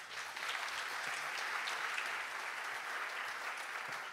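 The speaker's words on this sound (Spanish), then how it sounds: "Un aplauso para Marcos." An audience at a Fundación Chile celebration applauds steadily for the general manager as he is introduced, a dense, even clapping that holds at a constant level throughout without fading.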